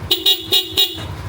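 Four short, bright horn beeps from a Yamaha Lexi 155 scooter in quick succession, each a sharp nasal tone, close by and loud, followed by quiet.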